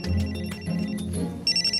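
A mobile phone ringtone sounds in a classroom, a repeating electronic melody with bright tonal beeps, loud and close, without speech.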